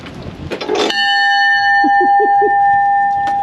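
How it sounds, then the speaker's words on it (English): A locomotive bell at a train yard in Nebraska strikes once loudly, its clear metallic tone ringing on and decaying slowly, with a short muffled knock beforehand and faint low thumps as it fades. "You guys hear the bell?"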